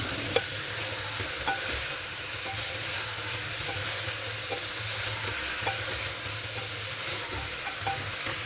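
Steady sizzling and frying in a pot as pumpkin is stirred into hot spice masala with oil, with faint scraping ticks from the spoon at irregular intervals under a constant hiss, and no talk.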